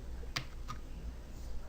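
Two or three quick, crisp keystrokes tap on a computer keyboard at close range against a quiet background, with no talking.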